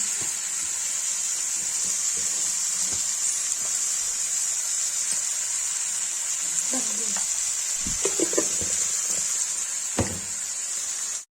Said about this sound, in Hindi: देखिए गाइस प्याज भून रहा है, इसमें मटर डाल दिया